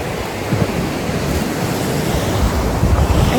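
Ocean surf rolls in at Celebration Key in the Bahamas, a loud, continuous wash of breaking waves mixed with gusty wind buffeting the microphone, with no voices.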